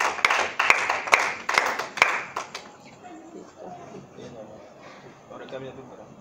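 A church congregation claps together in a quick burst of sharp hand claps during the first two and a half seconds, then the clapping fades into faint murmuring and room noise.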